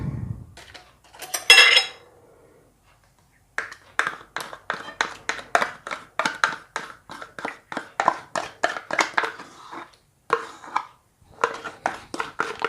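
Chocolate cake batter with chocolate yogurt and milk being mixed in a bowl: a steady run of sharp clinking taps of utensil against the bowl, close and rhythmic, after an earlier brief rattle and pause.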